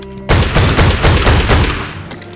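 Rapid video-game gunfire, loud and close, a dense continuous burst of shots filling most of the moment before cutting off.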